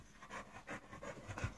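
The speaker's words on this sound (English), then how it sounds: "That's our dog." A family dog pants close to the microphone in a quick, steady rhythm of soft breathy puffs, heard alone in a quiet room.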